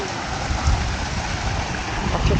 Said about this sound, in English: Enjoying the waterfall.